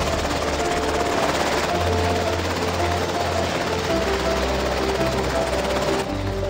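Toy helicopter in a Jurassic World toy adventure lifting off, a steady loud rotor drone and whine holding throughout with a low throb underneath.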